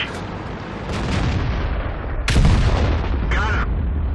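SU-152 tank gun in World of Tanks firing: a single heavy, sharp boom midway, amid rumbling battle noise with other distant shots and a brief mechanical whine afterward, with speech mixed in.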